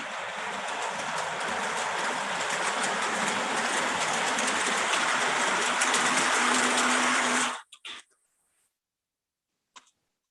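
A heavy model train of about 22 pounds, made of 1764-series passenger cars from 1937, runs with a dense, steady rolling rumble for several seconds, then cuts off abruptly into silence broken by a few faint clicks.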